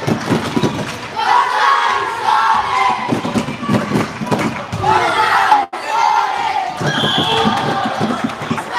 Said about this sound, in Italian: Abbiamo anche il tifo locale, sembrerebbe.